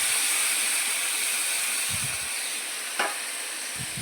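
Spices fry and get stirred in a kadai before meat goes in, giving a steady bright sizzle throughout, with a few low spoon scrapes and a brief clink against the pan.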